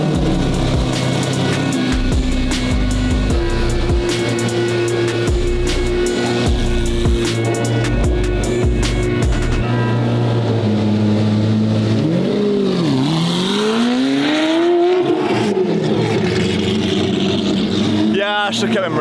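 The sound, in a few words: old supercar engine driving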